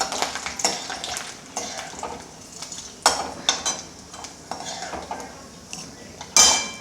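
Green chilies and curry leaves frying in hot sesame oil in a pan for lemon rice, a soft sizzle under repeated stirring scrapes and metal clinks of a spoon against the pan.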